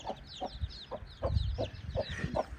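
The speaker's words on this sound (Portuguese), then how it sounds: "Que galo lindo." A large rooster on a Brazilian farm clucks in a steady run of short, evenly spaced calls, fairly faint and somewhat distant, with soft rustling and no talking.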